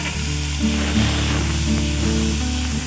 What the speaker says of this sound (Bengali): যখন কিছুটা ভাজা হয়ে আসবে তখন বেটে রাখা গন্ধপাতাটা দিয়ে দিতে হবে।